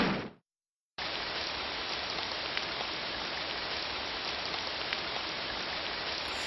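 Steady rain pours at the opening of the horror video game Corpse Party Blood Covered, a dense hiss of falling drops that starts after a brief silent gap and continues evenly, alone with no voices.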